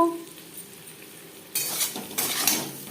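Potato pieces with salt and turmeric start to fry and crackle abruptly partway through, rising into a bright sizzle with a few utensil clinks in the pan.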